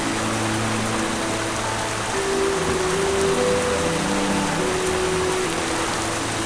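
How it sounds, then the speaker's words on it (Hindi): Steady light rain pattering on a surface, a soft continuous hiss with faint low tones in the background. "देखा कि हल्की सी बारिश हो रही थी,"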